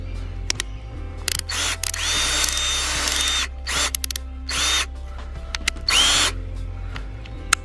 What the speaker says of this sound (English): so here we got our drill. Put it on to drill.